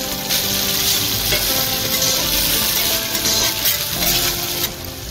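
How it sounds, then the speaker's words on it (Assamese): Potatoes frying in a pan after onions have been browned, a steady, loud sizzle that fills the whole stretch with occasional stirring scrapes and no voices. "মই ইয়াতে আলুখিনিও দি পেলাই ফ্ৰাই কৰি ল'ম"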